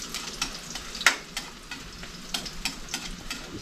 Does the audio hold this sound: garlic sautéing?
yes